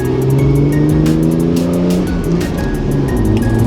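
A Ferrari drives off with its engine revving hard and the tires squealing. The pitch rises and falls as it accelerates, and the sound is loud and close with no talk.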